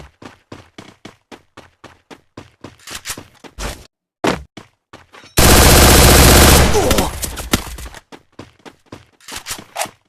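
Free Fire gunfire in a fast, regular string of sharp shots, with one long dense burst of continuous fire partway through, loud and close. Brief voices come through at points.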